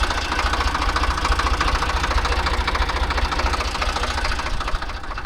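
Ford 3000 tractor engine running steadily close by in a vineyard, a continuous loud rhythmic diesel chug with a knocking idle beat throughout, no talking.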